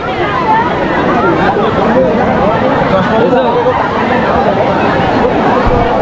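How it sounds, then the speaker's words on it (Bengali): A large crowd packs Digha beach, its dense babble of many overlapping voices a constant loud roar throughout, with nearby people talking in the mix. "প্রচুর ভিড়, প্রচুর, কি দারুণ, কত লোক দেখো"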